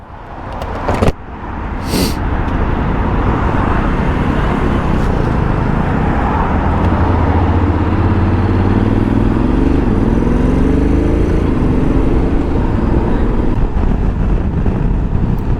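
Honda X-ADV 750 scooter-style motorcycle on the move, its steady engine drone and road rumble blended with constant wind buffeting over the rider, running loud and unbroken after a short sharp knock near the start.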